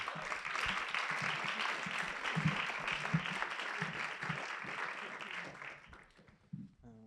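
Applause from the audience at a poetry prize nominee evening as a poet walks on stage: thick, continuous clapping that fades out toward the end, with a faint voice underneath.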